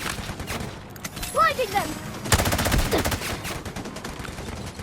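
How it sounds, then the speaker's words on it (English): Rapid bursts of video game gunfire from a Delta Force Mobile match, loud and close, with clustered shots packed into the second half and a voice speaking briefly over the action. "I'm just burst firing"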